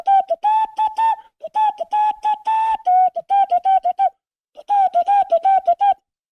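A person whistles a tune in three bouncy phrases of short, clear notes with a brief pause between them, close and alone with no talk.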